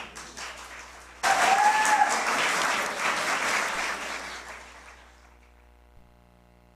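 Applause at a municipal chamber award ceremony, starting abruptly and holding steady for several seconds before tapering off into quiet.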